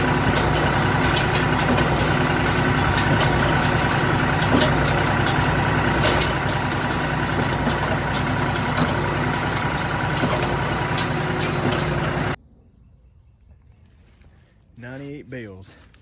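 A John Deere tractor hooked to a Massey Ferguson baler idles with a steady, loud diesel rumble for about twelve seconds before cutting off, followed by near silence and a brief faint voice.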